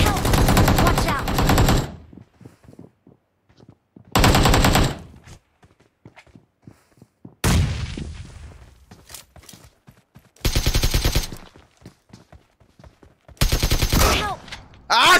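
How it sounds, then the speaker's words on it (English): Repeated loud bursts of rapid gunfire in PUBG Mobile, several dense volleys spaced a few seconds apart with softer clicks and movement between them. "Ah, shotgun."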